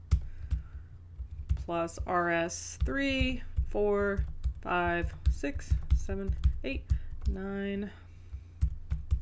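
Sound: typing on a computer keyboard

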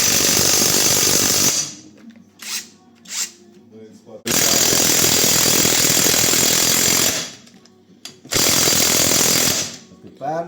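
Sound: Grosser GTW 780 impact wrench working

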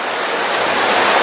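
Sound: rain falling

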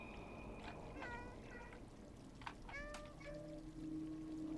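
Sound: cat meowing in the video game Stray

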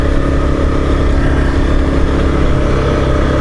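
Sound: motorcycle engine while riding

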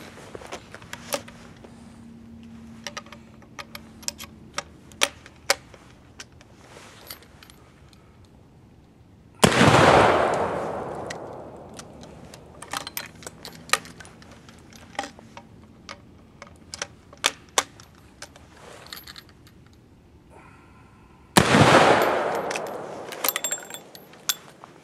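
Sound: firing three rounds from an 1873 Trapdoor Springfield rifle

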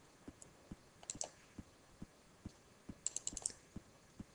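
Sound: computer mouse clicking

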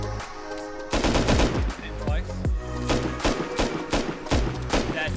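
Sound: gunfire in the video game Rust

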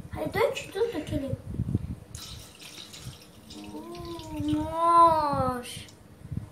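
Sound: pouring colored liquid

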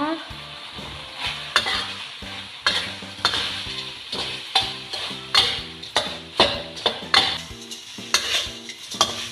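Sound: stir-frying fried catfish with curry paste and kaffir lime leaves

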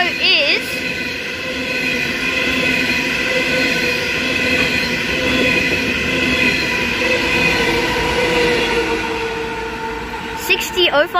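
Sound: long freight train passing station at Heathcote

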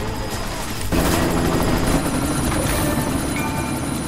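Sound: helicopter in the video game Deus Ex: Mankind Divided

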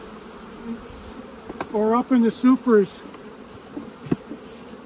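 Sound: honey bees buzzing around hive

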